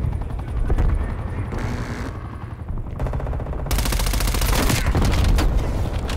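In Black Ops Cold War multiplayer, an attack helicopter's steady rotor drone runs under bursts of rapid machine-gun fire, growing to a loud, dense barrage in the second half.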